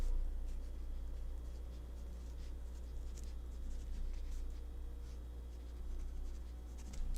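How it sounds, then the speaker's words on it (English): Pen writing notes by hand on paper, a steady faint scratching that runs throughout over a constant low hum, with no talking. "I'm going to write this down as well."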